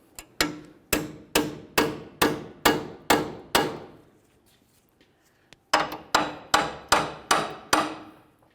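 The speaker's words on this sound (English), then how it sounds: "continue on with some sort of chisel or even a small pry bar that you can hit up against" A chisel or small pry bar hammered into the steering knuckle of a 2002-2005 Ford Explorer's rear suspension, two runs of loud, evenly spaced metallic strikes, about seven then six blows, separated by a brief pause.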